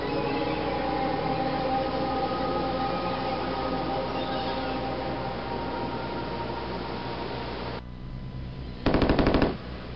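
Sustained rapid automatic gunfire rattles loudly in the first-person shooter game Last Rites, cutting off abruptly, then a short, sharp second burst follows after a brief pause.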